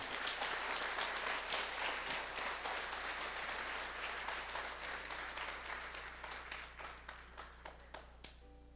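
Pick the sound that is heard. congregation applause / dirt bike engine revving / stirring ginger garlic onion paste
congregation applause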